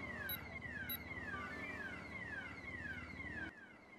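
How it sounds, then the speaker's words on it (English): A car alarm goes off in the video game GTA V, sounding a loud repeating cycle of rising and falling electronic whoops that cuts off near the end. "We're gonna ignore the alarms, right? We don't care about those, right?"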